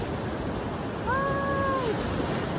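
Ocean waves wash steadily onto a beach in a continuous broadband rush, with a brief high tonal cry rising over the surf midway through.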